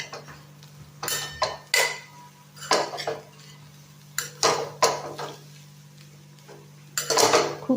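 Grated coconut being stirred and roasted in a metal pan, a spoon scraping and clinking against the pan in irregular bursts over a steady low hum, close and fairly loud with no talk.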